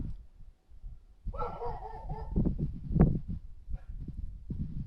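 A dog barks and whimpers nearby, a short series of yips and bow-wows with a brief whining stretch, mixed with background noise.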